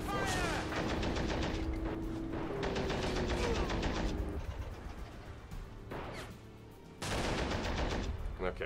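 Bursts of gunfire from a Greyhound armored car in the Men of War war game crack out in rapid, repeated volleys, loud and dense, with short pauses between strings of shots.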